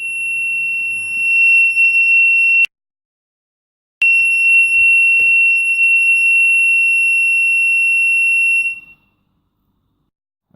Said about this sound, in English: now you've got yourself an impromptu moisture sensor, or rather a water level alarm